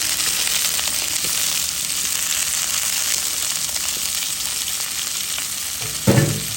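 Onion, green chillies and potato fry in oil in a pan with garlic, a steady close sizzle that runs throughout with soft stirring scrapes and a brief louder stir near the end. No one speaks.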